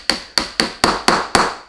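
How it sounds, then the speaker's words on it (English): A hammer drives a punch against the push pin of an HK53 clone rifle, six sharp metallic taps in a steady rhythm, each ringing briefly, close and loud with no talk. "So we need to hammer this one through."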